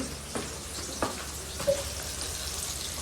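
Fish frying in a home kitchen gives a steady, soft sizzle with a few faint pops and light clicks scattered through it, and no one speaks.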